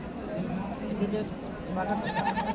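A goat bleats briefly at a rural livestock market in Natore, where kid goats are traded, the cries mixed in with people talking nearby.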